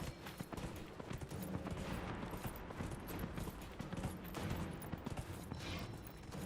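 Galloping horse in the video game Dragon Age: Inquisition, rapid repeated hoofbeats in a continuous drumming rhythm, moderately loud, with a faint mechanical creak mixed in.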